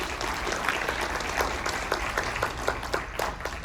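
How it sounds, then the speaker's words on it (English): A convention panel crowd for Terrifier 3 at Days of the Dead Atlanta breaks into steady applause, a dense wash of many hands clapping throughout, with a few sharper claps standing out. "give yourselves a round of applause for that"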